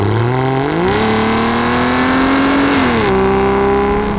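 An Aston Martin DB9's engine revs up, its pitch climbing in steps as it accelerates, steady and loud throughout with no voices.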